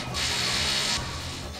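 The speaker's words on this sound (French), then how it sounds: "Encore la perceuse." A drill whirs in Advance Wars: Dual Strike, a loud steady grinding mechanical buzz lasting under a second before cutting off to quieter game sound.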